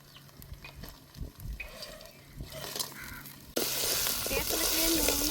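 Crabs drop into hot oil with ginger garlic paste in a village-style kitchen, bursting into a sudden loud, sustained sizzle after a few seconds of quieter clattering and stirring.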